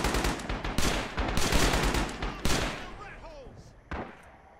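M1918 BAR fired in the World War II game Rising Storm, a close series of loud, sharp shots in quick, uneven bursts, then a few trailing shots and a fading tail.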